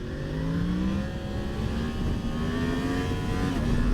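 A Yamaha MT-10 motorcycle accelerates hard in first gear in its slower mode 3, with a loud, close, rising engine roar that climbs steadily in pitch through the gears and no talking.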